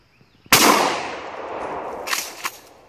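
A shotgun fires a single slug from the hip outdoors, one loud, sharp blast with a long decaying tail and a couple of faint echoes afterward.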